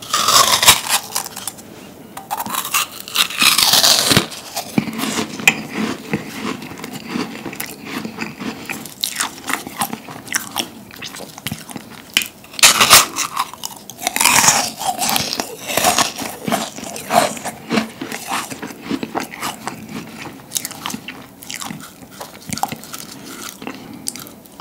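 Close, loud crunching and biting into a large, crunchy department-store meringue cookie, with sharp crackling bursts, scraping and chewing spread unevenly across the recording, and no talking.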